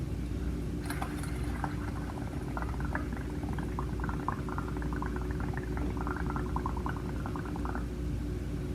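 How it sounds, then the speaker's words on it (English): Bubbles blown through a straw into a bucket of colored water, a continuous gurgling burble lasting several seconds, close and fairly quiet over a steady low background hum. "I'm going to blow bubbles straight into my bucket"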